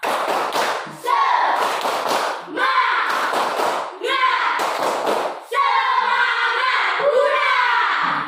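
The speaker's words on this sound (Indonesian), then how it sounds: "1, 2, 3. Tepuk semangat." A class of schoolchildren performs a patterned spirit clap, loud bursts of rhythmic hand claps and thumps in several phrases, with chanting voices mixed in throughout.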